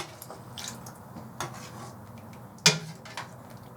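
A spoon stirs cream into Polish pickle soup in a pot, giving soft scattered scrapes and taps against the pot with one sharper clink partway through, close and fairly quiet.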